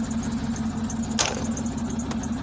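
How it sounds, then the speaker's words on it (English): A thin, steady squeal from the engine belt of a Chevrolet K1500 pickup truck, heard over a low idling rumble with a brief sharp clatter midway. "That little squeal you hear is the belt."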